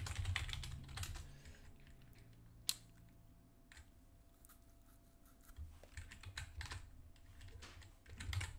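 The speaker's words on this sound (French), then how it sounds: "On pourrait le, taper avec, euh, avec le clavier." Keys on a computer keyboard typed in scattered clicks and short bursts, close and fairly quiet, with pauses between, while someone enters data into a harvest-record form.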